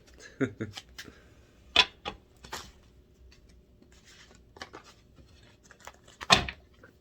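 A deck of tarot cards shuffled by hand in an awkward, uneven way: scattered crisp slaps and riffles with quiet gaps between, close up, with a few soft sounds of a voice.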